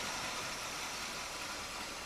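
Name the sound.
Oldsmobile Cutlass barn find engine idling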